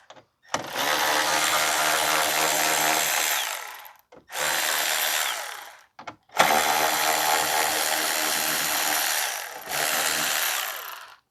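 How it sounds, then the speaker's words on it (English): A power tool runs in three long bursts to remove two 10mm bolts holding down the coolant reservoir on a 2014 Chevrolet Sonic 1.8, loud and close, separated by short pauses. "We are going to remove the two 10mm bolts that's holding down the reservoir."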